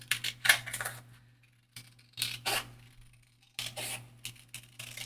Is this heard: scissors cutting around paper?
yes